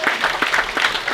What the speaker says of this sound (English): Clap it up for Maddie one more time,